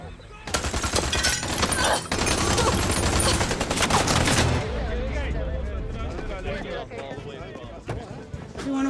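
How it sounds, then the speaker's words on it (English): Rapid automatic gunfire rips out in loud, dense bursts as shots are fired at police during a hostage standoff, then gives way to a lower rumble with scattered reports and shouting voices. "David, to command, we're taking shots here."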